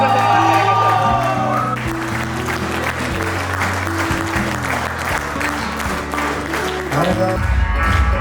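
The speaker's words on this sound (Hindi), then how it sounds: "एक बार जोरदार तालियों के साथ उनका सम्मान करेंगे" Audience applause welcomes speakers onto a stage at a sales training event, a loud, steady wash of clapping with scattered cheers and background music running under it for the full stretch.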